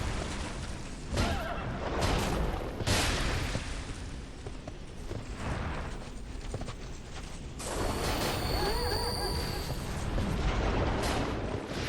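Enemy horse in Dark Souls 2, loud whinnying and hoof clatter mixed with heavy impacts, rumbling game combat noise and a high ringing tone, a dense continuous battle scene with no talking.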